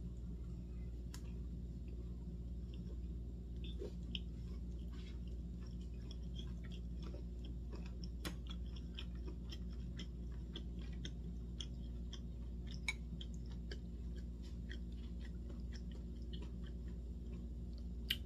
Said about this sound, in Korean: 자, 고기부터 먹어볼까요?